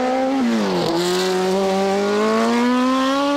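A Martini MK25 race car with a 2-litre BMW engine climbs a hill at Limonest-Montverdun, its loud engine close by, dipping briefly in pitch at a gear change and then rising steadily in a sustained howl.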